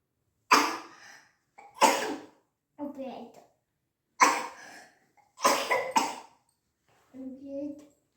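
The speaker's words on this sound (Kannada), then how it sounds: "ನೋಡಿ ಎಷ್ಟು ಕೆಮ್ತಾ ಇದೆ." A run of harsh, close coughs in separate bursts over several seconds, with brief throaty vocal sounds between them.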